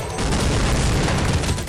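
Massive kamikaze explosion as an Undead player dies in a Warcraft mod for the Counter-Strike video game, a dense, loud burst of blast and crackling noise sustained for under two seconds.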